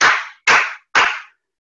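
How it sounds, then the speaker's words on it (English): Three sharp, loud hand claps from an audience, evenly spaced about half a second apart, each a crisp smack with a short decay, followed by silence. "everybody clap their hands hard 3 times"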